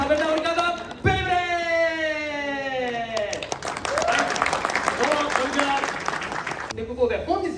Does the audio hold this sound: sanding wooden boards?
no